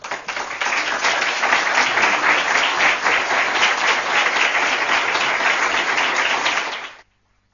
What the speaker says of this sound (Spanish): Pues hermano Viana, que estos aplausos sirvan de agradecimiento por tu discurso